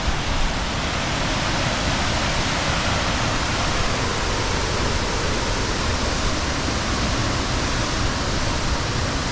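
Helen Falls, a waterfall on a Temagami canoe route, pours in a loud, steady, dense roar that fills the scene from start to finish with no break or change.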